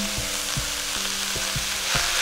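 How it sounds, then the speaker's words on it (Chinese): King oyster mushrooms and softened onions stir-fried over high heat in a pan: a steady close sizzle broken by regular spatula scrapes roughly every half second, with no one speaking. "就可以下入杏鲍菇，继续大火炒制"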